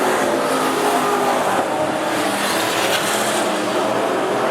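Speedway race cars racing at Rockhampton Speedway: loud, continuous roar of several engines revving hard together, close and dense, with no voices.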